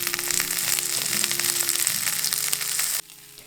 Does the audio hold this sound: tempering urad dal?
yes